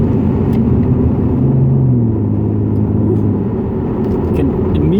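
A Ford Mustang 3.7L V6 in sport mode gives a steady, loud low engine rumble as it cruises, with slight rises in pitch, and a voice speaks over it.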